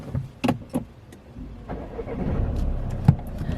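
A car's engine is started during a UK driving test demonstration: a few sharp clicks and thumps, then the motor cranks and settles into a steady low idle close by.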